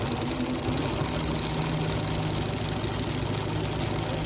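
A Consew 339RB two-needle walking foot industrial sewing machine runs steadily on a table with its motor, stitching heavy material with nylon thread, giving a continuous close mechanical hum and rapid rhythmic needle clatter for the whole stretch, with no talking.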